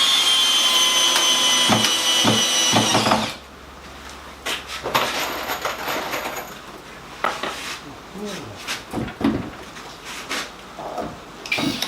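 Screws driven into a wooden veneer press with a car jack, opening with a loud steady power-driver whir that stops after about three seconds, followed by quieter scattered knocks and handling sounds nearby.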